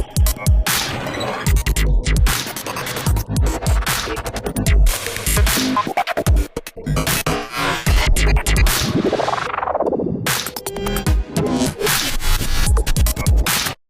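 A mastered electronic track processed with the Zynaptiq Unfilter plugin plays dense and loud, with punchy beats, full bass, bright highs and a sweeping riser-like tone midway, continuous with only brief drops and no voice.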